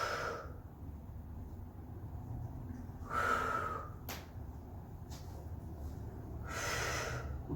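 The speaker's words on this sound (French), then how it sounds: "Je souffle et j'inspire." Forceful breaths out and in during a glute-strengthening workout: two noisy, airy bursts stand out over low background hum, one in the middle and one near the end.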